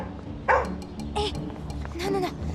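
An excitable dog gives a few sharp barks and yips in bursts over a steady low background, with people talking nearby.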